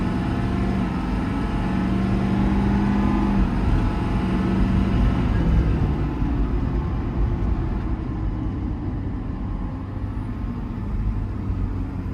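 A 2021 Ford F600 with a 6.7 Powerstroke diesel and 10-speed transmission accelerates down a cul-de-sac, a loud, continuous engine drone with gear changes heard as shifts in pitch across about twelve seconds.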